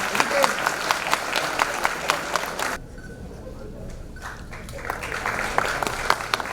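Applause at a talent award ceremony held by a Marwari association in West Bengal: brisk clapping for a few seconds drops away, then sparser claps return with voices murmuring underneath.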